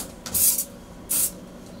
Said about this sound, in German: Jeden Tag bekommen die Tauben davon einen Sprüher, letztendlich im Witwerstall.